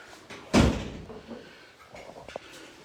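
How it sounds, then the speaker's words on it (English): A single door thuds shut nearby in an indoor room, a short heavy slam followed by quiet room tone with a few faint small knocks. "Let me shut this door."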